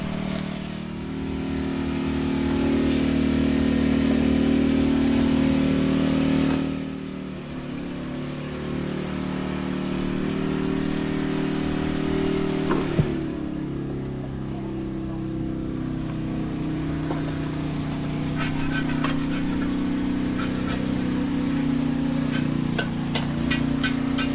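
A generator engine runs steadily at a cookout where lechon is being prepared, a loud continuous mid-pitched drone with a brief dip partway through and faint clinks near the end, with no talking.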